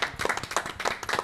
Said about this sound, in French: On peut l'applaudir très très fort.